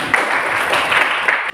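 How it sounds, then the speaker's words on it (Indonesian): A class of students in an Indonesian junior high school claps together in one loud, dense burst of applause lasting just over a second, then cutting off abruptly. "Tepuk tangan."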